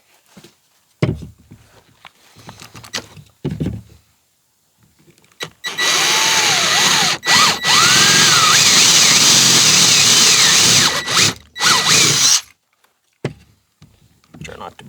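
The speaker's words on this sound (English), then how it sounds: "I'm gonna go ahead and drill a hole" A power drill bores a lanyard hole through a leather strop, one loud, sustained high whine lasting several seconds, bracketed by brief handling knocks and quiet pauses.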